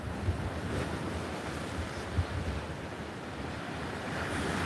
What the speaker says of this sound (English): It's the North Sea, the Yorkshire coast.